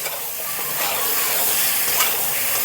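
Potatoes and eggplant fry under a lid in a covered pan, giving a steady, close hiss that holds evenly throughout with no talk.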